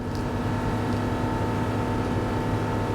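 A 2021 Mercruiser 300 hp engine pushes a 2006 Sea Ray 220 Select at wide-open throttle, around 3,000 revs and 29 knots on flat water, in a loud, steady drone with no letup.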